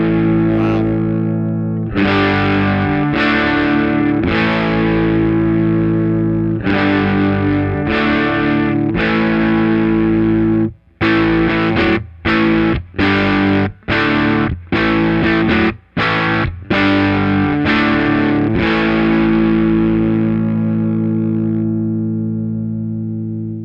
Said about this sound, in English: we've turned the amp up to 6, which will definitely put it into overdrive